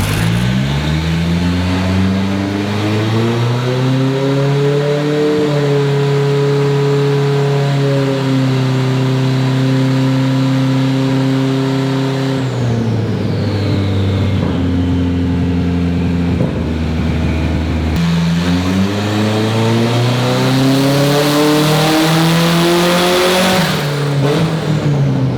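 A Datsun 240Z engine is revved hard on a dyno, climbing through the gears in a loud, continuous pull with a brief drop and recovery near the middle, the strained engine note rising steadily throughout with no talking over it.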